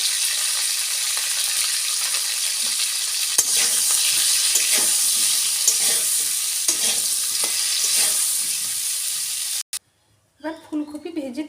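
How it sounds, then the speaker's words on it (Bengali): Cauliflower florets frying in oil with a little turmeric give a steady, loud, close sizzle and hiss with occasional stirring scrapes; the frying cuts off near the end and a voice speaks briefly. "এবার ফুলকপিটাও ভেজে নেব অল্প হলুদ দিয়ে"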